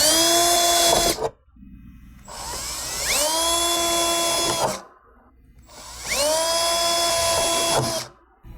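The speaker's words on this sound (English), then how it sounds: "Take our 1/8 inch drill bit and just punch through the holes." A high-pitched power drill with a 1/8 inch bit whines in three bursts of about two seconds each, drilling through a Jeep hood, with short quiet gaps between, close and loud.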